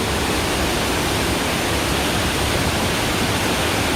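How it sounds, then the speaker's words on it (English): Heavy monsoon rain pouring down, a loud, unbroken hiss of downpour filling the air evenly from start to finish, with no voices. "it's pouring."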